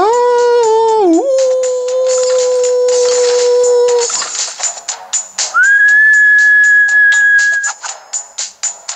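A person whistles sustained tones that bend and settle into pitch to hit notes in the PS Vita game Little Deviants, with clicky game effects and tinkly chimes sounding around them.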